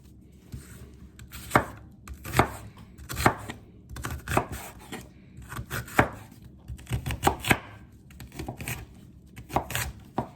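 A knife chops onions on a cutting board for French onion soup, with crisp, close strokes falling in short irregular bursts and soft scraping between them, no voices.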